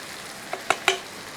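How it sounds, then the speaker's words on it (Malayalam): Spice powders of chilli, turmeric and coriander fry in a mutton curry pan and are stirred, giving three quick scraping clicks over a soft, steady sizzle. "ഇതൊന്ന് ഇളക്കി കൊടുത്തതിന് ശേഷം"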